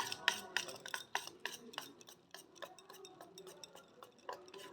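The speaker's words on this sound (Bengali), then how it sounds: "এবার মিশিয়ে নেব।" Chakli dough being mixed with salt and turmeric in a bowl, giving faint, irregular clinks, taps and scrapes of a utensil against the bowl at a low level, with no talk.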